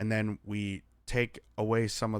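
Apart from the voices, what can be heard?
No distinct noise like a dog, phone or traffic.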